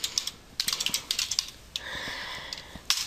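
Soft, uneven clicking of a computer keyboard being typed on, close by and fairly quiet, with short bursts and small pauses.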